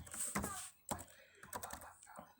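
Fingers type on a computer keyboard in a short burst of uneven clicks and taps, fairly close, with a voice talking in between the keystrokes.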